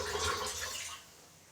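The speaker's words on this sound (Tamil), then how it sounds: "ஸோ அந்த தண்ணியெல்லாம் நல்லா ஃபில்ட்ரு பண்ணிக்கலாம்." Water drains off soaked rice as it is poured out: a short rushing, gurgling pour that fades and thins after about a second, close by.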